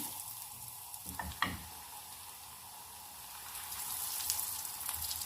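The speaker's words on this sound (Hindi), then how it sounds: "ऑयल मेरा गर्म हो गया है। अब मैं कटलेट्स डाल देती हूँ।" Vegetable, chicken and cheese cutlets are lowered into hot oil in a pan, with a couple of quick clatters early on and then a soft, continuous sizzle that grows slightly louder.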